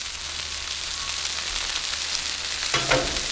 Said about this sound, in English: Butter is melting, and we're gonna get to toasting soon.